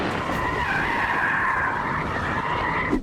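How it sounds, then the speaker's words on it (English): A Mercedes E-Class hybrid with the AMG Dynamic Plus pack drifts, its tires squealing loudly and continuously for about three seconds, a close, sustained skid with no voices. "Drifting? In a hybrid?"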